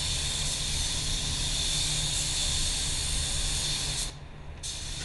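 A spray gun at 22 psi lays clear coat onto a white car with a continuous, loud, close hiss of air and atomized paint, then briefly cuts out near the end before resuming.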